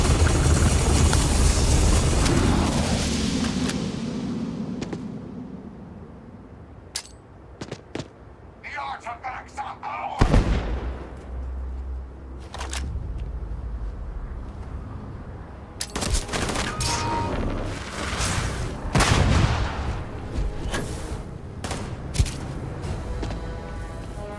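Gunfire in the space game Starfield crackles in sharp bursts amid a rumbling, helicopter-like drone, with loud shots clustered late in the stretch and voices talking over the fight.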